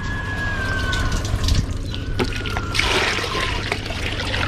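Water trickles steadily from a natural spring, a continuous close wash of flowing liquid with faint tonal whistles and no speech.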